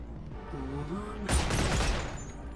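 Two guns fired at once in Boneworks, a brief loud burst of rapid overlapping shots that breaks in after a moment of quieter ambience.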